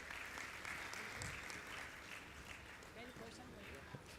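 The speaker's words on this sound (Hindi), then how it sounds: "आप लोग जोरदार तालियां बजाते रहें जब तक ये सम्मान।" An audience claps steadily and loudly throughout an honouring ceremony at a Jain monk's question-and-answer gathering in Indore, with a faint voice speaking underneath.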